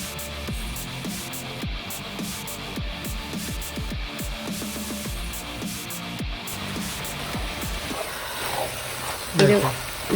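Vegetables sautéing in a pan for a party-order home cooking batch, a steady close sizzle with a regular ticking rhythm of stirring strokes, and a brief louder scrape near the end.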